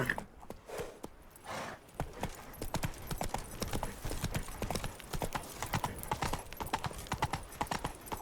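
Roach, a horse in The Witcher 3: Blood and Wine, gallops with rapid, steady clip-clop hoofbeats up close, loud and continuous, with a brief whinny-like breath near the start.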